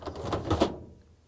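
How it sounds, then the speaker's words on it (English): A Whirlpool dryer lint screen sliding back into its slot, a short rough scraping slide lasting about half a second, close by, then quiet. "the lint screen goes back in"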